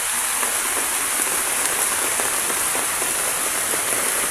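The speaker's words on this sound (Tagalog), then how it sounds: "sobrang lakas ang ulan." Heavy rain pours down at sea in a dense, constant hiss, close and unbroken, with no voices.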